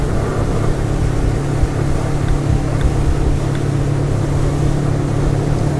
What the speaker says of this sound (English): Trim the engine down, increase power through the turn.